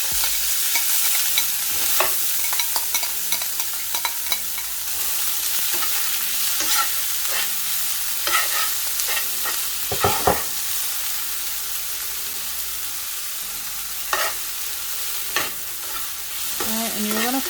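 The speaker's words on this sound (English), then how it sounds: "When your oil is nice and hot, you can add in your seasonings, and I'm just gonna be dumping them in all at once." Seasonings dumped into hot oil and frying for a fish pie filling, a loud, close, constant sizzle broken by frequent scraping stirs and sharp clinks against the pan.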